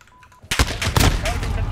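Gunfire in Call of Duty Modern Warfare: a sudden loud burst of several sharp shots in quick succession, following a quiet moment.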